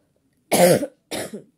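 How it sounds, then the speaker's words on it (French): Two harsh coughs from a woman with COVID close to the microphone, a longer one followed by a shorter one after a brief pause, in an otherwise silent room. "Désolée, vous m'entendez tousser."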